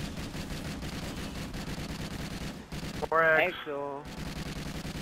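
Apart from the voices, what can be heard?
sentry gun firing in video game Call of Duty Ghosts Extinction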